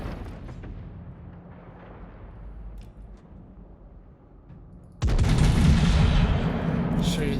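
In World of Warships, a Tier 7 German battleship, the P. Heinrich, fires a loud broadside at a target, a sudden booming roar that follows a few seconds of low, rumbling ambience.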